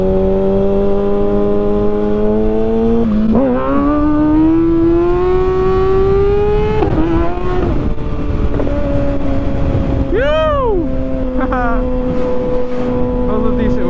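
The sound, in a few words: motorcycle revving during a wheelie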